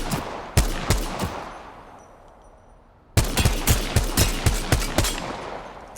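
A G7 Scout rifle fires in Apex Legends in quick, loud, evenly spaced shots, a short burst of four, a brief pause, then a longer rapid string of about nine more.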